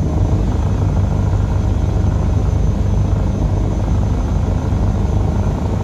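Steady, loud rotor and turbine drone of an Airbus H160 helicopter descending in Microsoft Flight Simulator 2020, a dense continuous roar with no talk over it.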